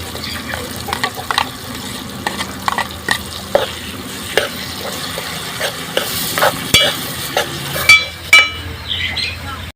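Bitter gourd frying with a paste of onion, tomato and green chilli, a steady close sizzle broken by repeated scrapes and clinks of a spoon stirring in the pan.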